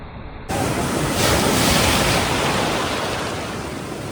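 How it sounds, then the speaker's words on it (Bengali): Sea waves break on the beach at Puri, a loud, continuous roar of surf that swells and slowly fades, with wind buffeting the microphone and no voices. "বিশেষ করে এখানে ঢেউয়ের পরিমাণটা অত্যাধিক বেশি এবং জলের টানও থাকে খুব"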